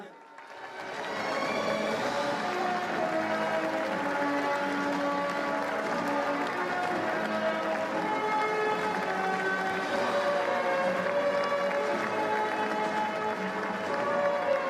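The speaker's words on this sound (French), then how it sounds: "maintenant je vais vous demander d'applaudir" Audience applause welcoming conductor Jérôme Kuhn at a Puy du Fou anniversary show: a dense, steady wash of clapping swells in within the first second and holds loud for the rest, with sustained musical tones running underneath.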